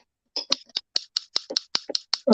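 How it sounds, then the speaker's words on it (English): American-made Craftsman scissors snip repeatedly, a series of about a dozen crisp, close metallic clicks in an irregular rhythm, ending in a louder rustle. "Look, I got scissors that'll cut a penny in two."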